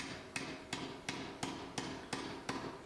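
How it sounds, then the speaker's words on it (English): A power hammer strikes hot iron while forging Viking tongs, eight sharp evenly spaced blows about a third of a second apart, loud and close with no voices. "then over to the power hammer"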